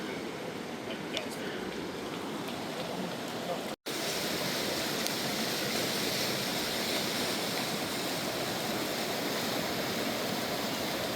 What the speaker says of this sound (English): we are at the Arkansas River in Colorado